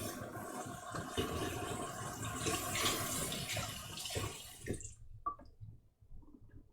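Water runs steadily from a kitchen tap while a cake is being mixed, a broad continuous rush for nearly five seconds that cuts off abruptly, followed by a few faint drips and clinks.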